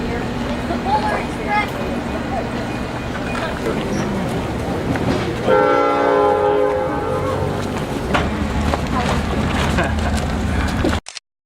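A loud, deep Great Smoky Mountains Railroad train horn sounds for a couple of seconds mid-clip over steady rumbling engine noise, with voices in the background.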